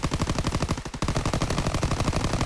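Rapid automatic gunfire in Call of Duty: WWII, a dense rhythmic stream of shots close and loud, with a brief break near the one-second mark before firing resumes.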